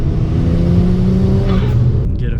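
A BMW N54 engine revs hard during a boost pull with a loud, close, sustained drone that climbs slowly in pitch. It cuts off abruptly near the end.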